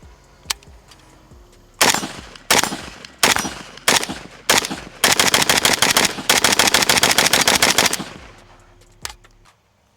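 A Pioneer Arms 556 Sporter AK rifle fires at steel targets 25 yards away, starting with a few spaced single shots, then rapid sharp strings of loud cracks with faint metallic pings, ending in quiet.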